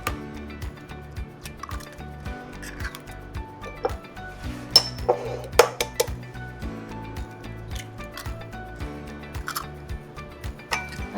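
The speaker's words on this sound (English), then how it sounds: "I'm just going to whisk all of this in together until it's nice and smooth." Crepe batter of eggs, water and flour whisked in a bowl, with quick rhythmic clinking and tapping of the whisk against the bowl, close and steady with no talk.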